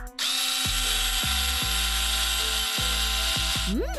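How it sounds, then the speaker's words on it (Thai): A power drill bores during a house-building challenge. The motor whine is loud and steady, cut by several short restarts and pauses, and a brief rising tone comes at the end. "เอาล่ะเจาะเลย"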